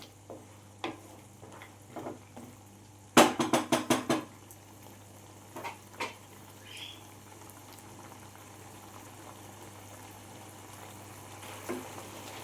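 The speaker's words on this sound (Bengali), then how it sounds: "এবার আমি চুলার আঁচটা বাড়িয়ে পানিটা আমি মেরে নেব।" Bhuna chicken with yogurt cooks down in a pot over a high flame with a quiet bubbling simmer. A quick run of metal clatters from stirring stands out, and scattered single clinks follow.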